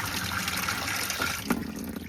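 Cold water runs from a sink tap in a converted school bus, a steady trickling stream heard up close with no talking.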